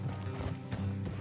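Horse hooves clip-clop at a trot on a road in Red Dead Redemption 2, a brief, fairly close burst of steady beats with no talking.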